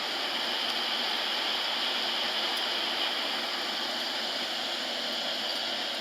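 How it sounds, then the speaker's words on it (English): Water of a stream near Triangle Lake runs as a steady, even rush of broadband noise, continuous and moderately near, with no voices over it. "I love the sound of running water."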